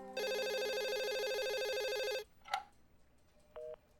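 An electronic telephone rings with a rapid warbling trill for about two seconds, then a click and a short beep follow in a quiet room.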